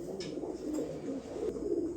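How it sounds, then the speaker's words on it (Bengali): A pair of red checker racing pigeons coo softly nearby, several low rolling coos repeating in a gentle rhythm over quiet background noise. "খুব সুন্দর এক পেয়ার রেড চেকার কবুতর দেখেন জটিল এক পেয়ার কবুতর"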